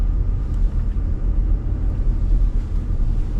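Car engine rumbling as the car gains speed in a driving lesson on narrow streets, a continuous loud low drone with road noise and no speech.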